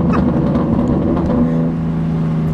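A BMW G80 M3 engine drones loudly while driving, a steady low rumble heard from inside the car with a slight pitch drop partway through, with no voices.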